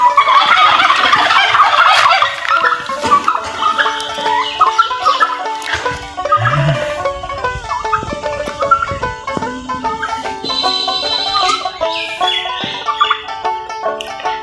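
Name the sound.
turkeys gobbling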